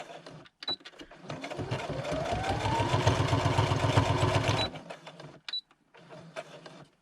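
A sewing machine back stitches gauze fabric in one steady, rapid run of several seconds, close and fairly loud, with brief clicks and handling noises before and after.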